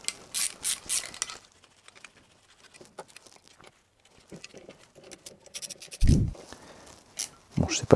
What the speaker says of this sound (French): Donc je tiens mon cliquet par la tête pour serrer.